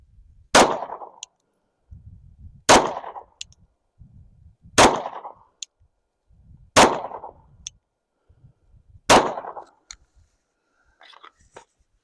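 Five handgun shots fired at a target 10 yards away on a range, each a sharp loud crack evenly spaced about two seconds apart, with faint handling noises between them.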